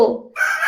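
A rooster crows once, loud and close, with a brief rising then sustained call lasting under a second.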